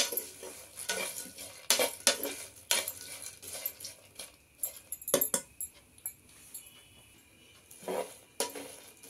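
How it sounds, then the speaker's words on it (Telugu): A spoon scrapes and clinks in a pan while stirring dry-roasting ingredients for a spice powder, no oil added, producing irregular close metallic scraping taps at moderate loudness. "ఈ మెత్తాల తల్లు మాడిపోకుండా అప్పుడప్పుడు కలుపుకుంటూ ఉండాలండి."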